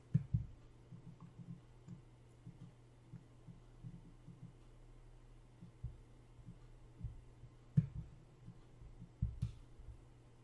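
A computer mouse clicks repeatedly at close range, sharp isolated taps at uneven intervals over a faint steady hum, with no voices.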